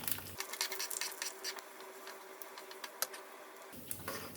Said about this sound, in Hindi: राई भी क्रैकल हो गई